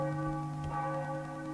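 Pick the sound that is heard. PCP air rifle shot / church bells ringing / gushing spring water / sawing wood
church bells ringing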